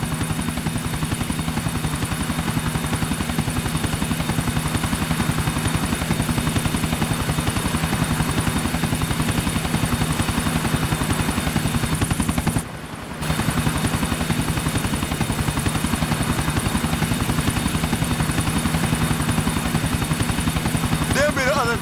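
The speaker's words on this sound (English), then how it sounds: "There be the other chopper." A helicopter in the video game Grand Theft Auto IV, a loud continuous rotor chop with a steady engine whine, holding near and constant with a brief dip partway through.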